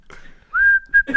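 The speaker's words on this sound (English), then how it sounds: "Blow my whistle." Someone whistles a rising note that settles into a steady high tone, breaks briefly, then resumes, heard alone and fairly close for about a second.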